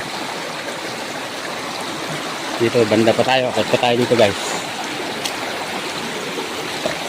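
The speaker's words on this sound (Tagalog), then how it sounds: "Yung ilog na to, kabisadong kabisado ko." River stream flowing steadily in a provincial village, a continuous broadband rush heard throughout while someone talks over it briefly in the middle.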